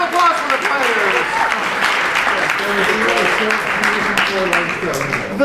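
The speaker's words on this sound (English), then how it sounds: "Round of applause for the players!" Audience applause for the performers after a round of an improv comedy game at a comedy festival, a steady, dense clapping from a live crowd lasting several seconds, loud and sustained with some overlapping voices.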